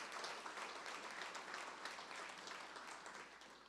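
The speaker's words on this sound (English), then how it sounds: "Please, a round of applause for Commissioner Arcadio Salinas." An audience at a Rio Grande City State of the City event applauds a city commissioner, a broad, sustained clatter of many hands, fairly distant and fading slightly toward the end.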